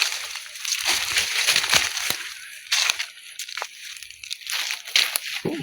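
Strong water flow being collected from a water source, splashing and sloshing in uneven bursts close by, with crinkling and crunching handling noises mixed in.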